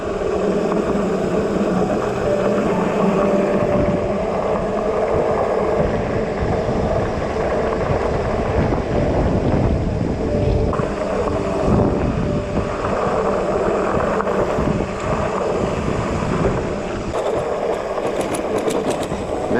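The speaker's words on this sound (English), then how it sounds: "It's windy at the moment." Strong, steady wind in the Flinders Ranges roars and buffets the microphone throughout, a constant loud rumble with no clear pauses.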